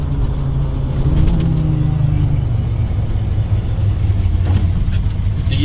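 Ford F250 V8 truck on a test drive, heard from inside the cab as a loud, steady low engine rumble and road drone that continues throughout with no clear talking.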